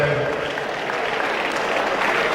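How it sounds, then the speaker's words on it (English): Lecture audience applauding a guest lecturer at a Nigerian surveyors' institution event, a steady wash of clapping throughout, fairly even and moderately loud with faint voices mixed in. "Please sustain the applause for our guest lecturer today."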